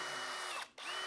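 Power drill whirring steadily at high speed with a drill bit fitted, briefly cutting out for a moment before spinning back up, close and loud with no talking.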